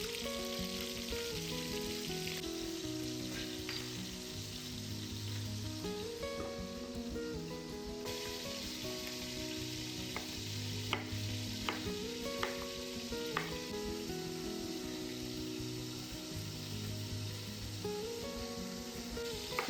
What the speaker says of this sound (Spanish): lo que voy a hacer es primero dorar un poquito los muslos de pollo para que queden jugosos